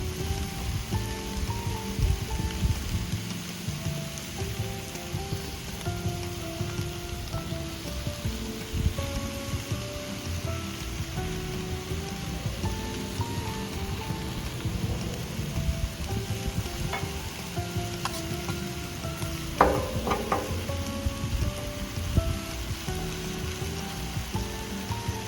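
Burger buns toasting on a Blackstone flat-top griddle give a steady, dense sizzle and crackle, with a few louder pops and scrapes near the end and no talking.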